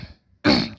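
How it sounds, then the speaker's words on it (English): A single sharp cough bursts out after a brief quiet, close and fairly loud, following a faint throat sound. "Cough."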